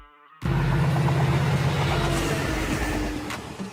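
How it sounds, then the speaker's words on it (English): Passenger train rumbling loud and close, a steady roar that starts abruptly after a brief tone and holds for several seconds before easing slightly. "Passenger train. Trains designed to carry passengers between different locations."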